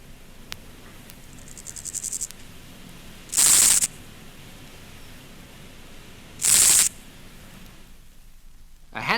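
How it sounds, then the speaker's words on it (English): Two male meadow grasshoppers stridulate in turn outdoors, each giving a brief loud rasping burst a few seconds apart over a quiet, faintly hissing background, with a softer buzz at the start. "the meadow grasshopper, of which species 2 males can now be heard stridulating against each other"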